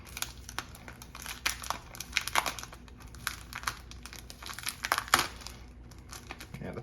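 A plastic packaging sleeve is pulled off a Duel Masters collector box, giving close crinkling and crackling in irregular bursts with sharper snaps, and faint speech murmurs now and then.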